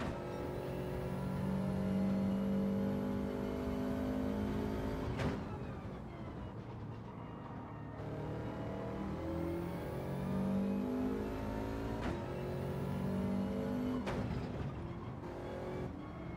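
Racing car in a video game accelerating hard through the final corner, a loud continuous engine roar with rising and falling pitch, two sharp gear shifts and a brief lift before revving again, steady and close throughout.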